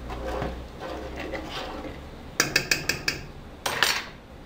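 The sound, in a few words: stirring jamoncillo candy mixture in a pot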